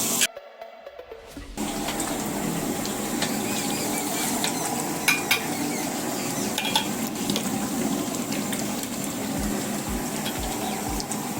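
Spice tempering for a village hotel's tuver totha sizzles steadily in a pan while a utensil stirs and scrapes, a continuous close frying hiss after a brief quiet start.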